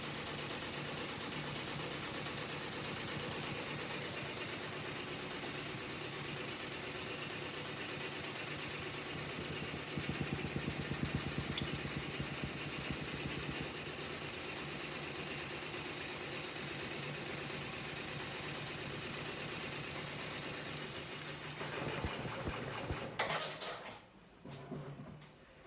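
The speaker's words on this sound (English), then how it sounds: "So now it's sewing around the face." Fifteen-needle embroidery machine stitching an applique outline, a steady fast mechanical whir with dense rapid needle chatter, close and continuous, ending in a few clunks near the end.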